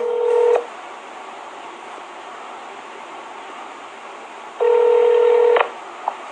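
Two bursts of telephone keypad tones at the start of a call, each a steady dual-tone lasting about half a second to a second, separated by a long quiet gap and followed by a short faint blip.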